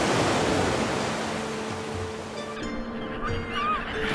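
Mediterranean sea waves wash steadily along a warm coastline, a continuous broad hiss of surf with gentle swells, while faint bird chirps break through near the end.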